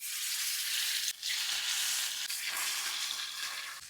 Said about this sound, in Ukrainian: Курочку, друзі, я підсмажую як стейки до рум'яної скоринки по 3 хвилини з кожної сторони.